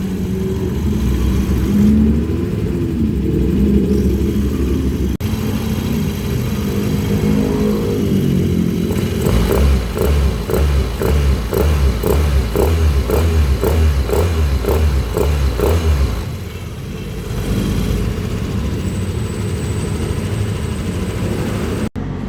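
A Yamaha NMAX scooter with a bolt-on upgrade and CVT tune, its engine idling, then revved in a quick series of rhythmic bursts for several seconds before settling back to a steady idle, loud and close.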